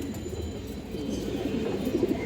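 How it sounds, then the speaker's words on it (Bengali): A red khaki female pigeon coos softly in a few low, rolling bursts toward the end, close and fairly quiet, with no voices. "পাল্লা করা একটা লাল খাকি মাদি কবুতর, খুবই ভালো একটা মাদি কবুতর দর্শক"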